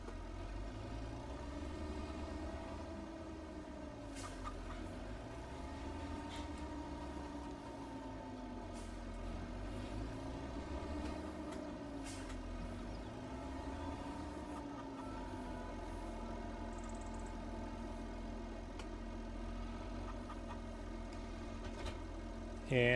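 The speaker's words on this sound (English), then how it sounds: "let's start the old tractor" An old tractor's engine idles steadily in Farming Simulator 25, a low continuous drone with faint wavering pitch throughout, steady and moderately quiet with no talking.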